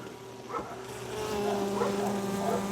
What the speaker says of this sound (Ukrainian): Досить таки багатенько бджоли, гарний рій попаса.